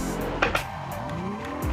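A car drifting in the Assetto Corsa racing video game, a continuous engine tone with sliding tire squeal that bends in pitch over a couple of seconds, heard alone without talk.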